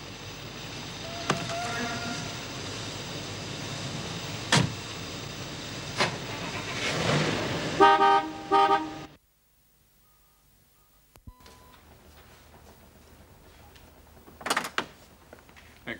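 A car in a 1970s English country-house drama setting, with a door clunk and rising engine noise up close before cutting to near silence, then faint movement later on.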